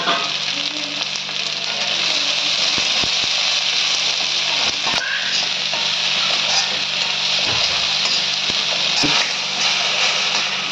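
Okra sizzles steadily as it fries in a pan with chili powder, turmeric and salt, a dense continuous crackle with a few sharper pops and utensil knocks, close and loud throughout.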